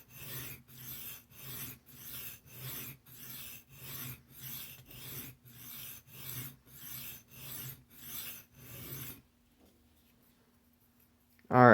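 A knife edge is drawn repeatedly across a sharpening stone to raise a burr, about fifteen steady rasping strokes in an even rhythm, close and clear, then near silence with a brief sharp knock at the end.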